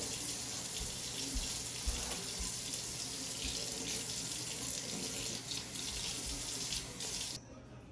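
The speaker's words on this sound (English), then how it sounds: "Now with room temperature water, we're going to soak the bread." Room temperature water runs steadily from a tap into a sink to soak bread, a continuous hissing splash that holds an even level before cutting off abruptly near the end.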